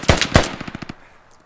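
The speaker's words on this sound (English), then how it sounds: "There's a machine gun." Machine gun fire in the video game Squad: a short burst of rapid automatic shots, the first two rounds loud and heavy, the rest quickly fading into silence.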